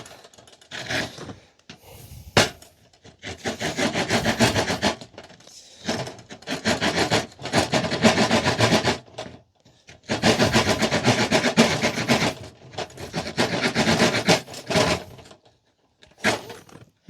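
The saw blade of a Nextorch Pioneer MT20 multitool cuts in close, rasping bursts of rapid back-and-forth strokes, separated by short silent pauses.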